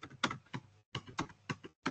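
Keys on a computer keyboard are struck in short bursts of crisp clicks, close and fairly faint, with brief pauses between groups of keystrokes.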